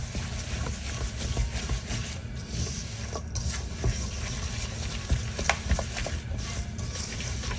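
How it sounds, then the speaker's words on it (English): Apple toffee cake batter is creamed and mixed in a bowl, with continuous scraping and stirring strokes. Several brief louder rubs stand out, and no one speaks. "cream these together, mix all of this together"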